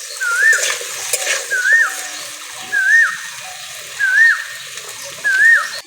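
Potatoes seasoned with salt and turmeric fry in a pan, giving a steady close sizzle with a faint squeaky chirp that repeats about once a second, as if from stirring.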